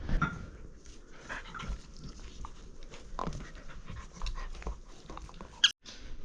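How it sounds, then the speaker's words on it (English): Dogs play with a squeaky toy, panting and snuffling close by with soft whimpers, scattered rustling movement and a single sharp squeak near the end. "the dogs are absolutely gonna have a field day with it"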